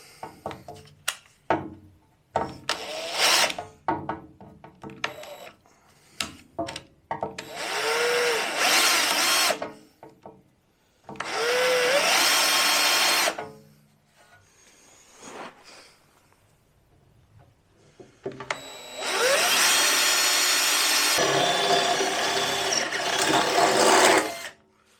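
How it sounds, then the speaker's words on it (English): A regular step drill bores a cable hole in the body of an old tow truck, heard as repeated loud whirring bursts of the power drill, some with a rising whine, separated by quiet pauses and small clicks. "So we're just using a regular step drill."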